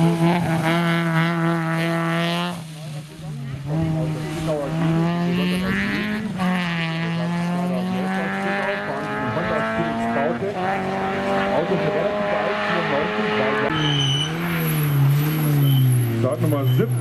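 Rally car from D&H Motorsport at the Wartburg Rallye 2015 stage near Krauthausen, engine loud and close, climbing through gears with repeated rising revs and brief drops at shifts, while a commentator talks over it.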